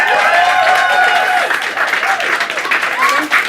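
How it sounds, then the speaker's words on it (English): Studio audience applause on a talk show, a dense wash of clapping with some voices mixed in, fairly loud and steady throughout. "clap at the very notion of Fierce Wilds"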